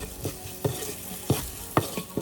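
A spoon stirs salt and turmeric powder into green moong dal khichdi in a pot, giving several scraping, clacking strokes at an uneven rhythm over a low background sizzle, close and fairly loud, with no talking.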